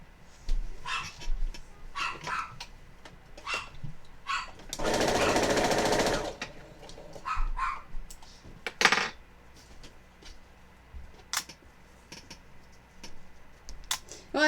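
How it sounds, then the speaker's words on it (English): Excited dogs bark indoors in scattered bursts, some short yaps and one longer loud stretch of noisy barking, heard from a little distance with no one speaking. "the dogs are barking because they're excited"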